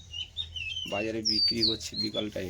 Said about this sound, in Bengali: পাখিগুলো কীরকম ডাকছে দেখো